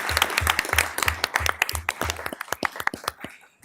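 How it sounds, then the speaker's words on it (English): Audience at a county board meeting giving a round of applause, a burst of many hands clapping that thins out to a few scattered claps before fading. "And for them, we'll give them a round of applause."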